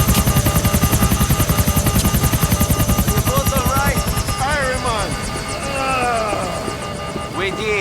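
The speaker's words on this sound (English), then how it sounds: "Trying to land a broken helicopter with Algonquin in the background." A broken helicopter comes in to land in Grand Theft Auto IV, its rotor chopping loudly in a fast steady pulse that eases slightly, with voices talking over it partway through.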